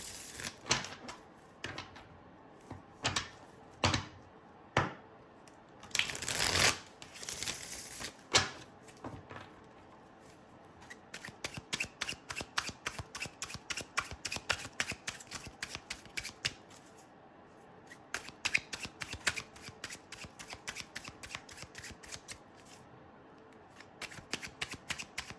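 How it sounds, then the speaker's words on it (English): A deck of tarot cards being shuffled by hand, with bursts of riffling and rapid repeated flicks, some louder slaps early on and then steady quick card snaps that continue close up and alone. "Let me shuffle real quick."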